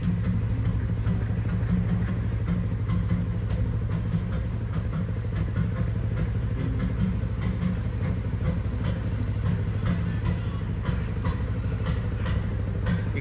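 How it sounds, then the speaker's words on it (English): A canal fuel boat's engine drums with a steady low, rhythmic thud as the boat passes close by, continuous and unbroken, with no talking over it. "You can just hear the lovely drumming of the fuel boat's engine."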